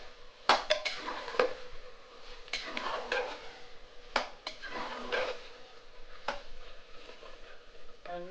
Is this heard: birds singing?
no